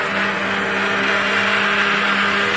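A blender whirs loudly and steadily while blending pumpkin cream soup, its motor a constant high buzzing drone with no pauses.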